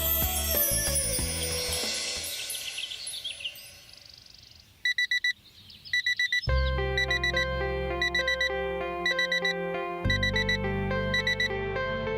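A morning alarm clock rings in rapid repeating electronic beeps, starting after a stretch of background music and continuing loud and steady in bursts until the end.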